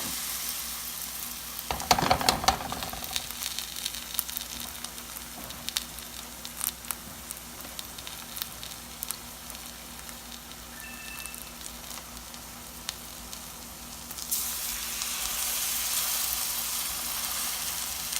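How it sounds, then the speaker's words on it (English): Fritter batter frying in hot oil, a low steady sizzle with soft crackles and a few stirring knocks, growing louder and hissier near the end. "Now you want to make sure that your oil is hot before you put it in."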